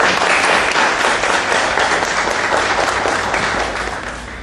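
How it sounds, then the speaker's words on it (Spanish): Audience applause at a criminology lecture event, a loud, dense burst of many hands clapping together, steady for several seconds before tapering off at the end. "pido un fuerte aplauso para agradecer su participación"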